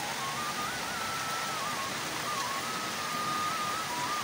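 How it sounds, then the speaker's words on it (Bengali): Rain falling steadily during the monsoon season near a household washing area, a constant even hiss with no breaks, alone and with no talking. "বৃষ্টি চলে এসছে"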